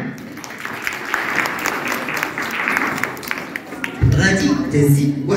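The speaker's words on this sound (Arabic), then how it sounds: "زيدي صفقوا عليها" An audience at an Amazigh New Year celebration applauds steadily in a dense, continuous wash of clapping, and a voice breaks in near the end.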